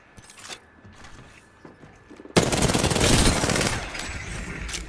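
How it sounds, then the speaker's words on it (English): Gunfire from an enemy team in Apex Legends erupts suddenly after a quieter stretch, a loud sustained burst of rapid shots that stays dense and close for over a second before easing slightly. "There's another team shooting at me"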